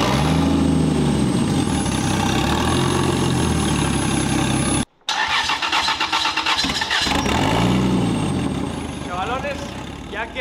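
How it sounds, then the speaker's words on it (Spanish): A Nissan Silvia fitted with a 2JZ turbo engine idles with a loud, steady rumble, cutting out for a moment and then catching again to idle on, with people talking over it. "ya que confirmamos que nuestro motor enciende, no solo con carboclean, sino que ya enciende de forma autónoma"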